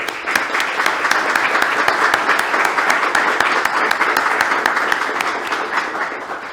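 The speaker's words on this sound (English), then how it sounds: "Let's give Jack a round of applause." Applause from an audience at a STEM educator awards event, dense even clapping that holds steady for several seconds and eases slightly toward the end.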